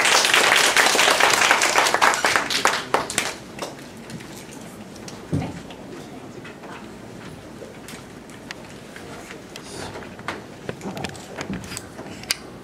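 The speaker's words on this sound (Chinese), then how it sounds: "好，接下来就以最热烈的掌声，我们来欢迎我们卓志贤老师。" An audience applauding to welcome a teacher, strong clapping for about three seconds that then thins out to scattered claps and quieter room noise.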